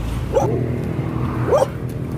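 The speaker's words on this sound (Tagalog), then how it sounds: "Kasi may aso." A dog barks twice outside a house in Tayug, Pangasinan: two short, fairly close yelping barks about a second apart, over low background murmur.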